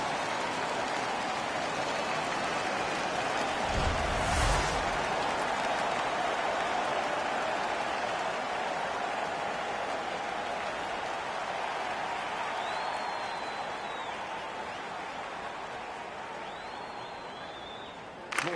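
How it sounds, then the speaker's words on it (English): Hockey arena crowd in the video game NHL 15 roars steadily as a broad, continuous wash of cheering and noise that persists throughout, with a brief louder burst near the start. "The crowd is so pumped right now."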